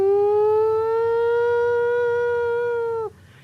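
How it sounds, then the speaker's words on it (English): A town siren wails in one long, steady, loud tone for about three seconds, then drops away sharply, leaving faint background noise. "town siren."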